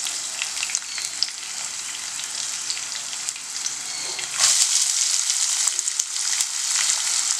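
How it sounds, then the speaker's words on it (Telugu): Onions hit hot tempering oil with mustard seeds, curry leaves and green chillies, giving a loud, steady sizzle that surges briefly midway, with light stirring and no talk. "నెక్స్ట్ నేను ఇందులో ఉల్లిపాయలు వేసేసుకుంటున్నాను."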